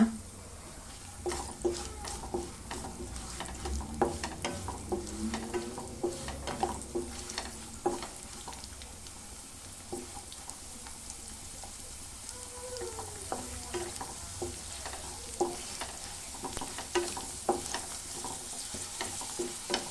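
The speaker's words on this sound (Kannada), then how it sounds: "ಇದಕ್ಕೊಂದು ಸ್ವಲ್ಪ ಗೋಡಂಬಿ ಚೆನ್ನಾಗಿ ಫ್ರೈ ಆಗಬೇಕು" Cashews and raisins frying and being stirred in a pan: a steady soft sizzle with repeated scraping strokes of a spoon against the pan, close and continuous throughout.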